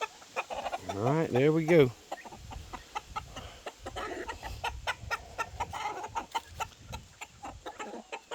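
Rhode Island Red chickens clucking and calling near and loud as they are let out of their coop, a strong burst of fowl calls at first, then scattered clucks and rustling, with brief speech.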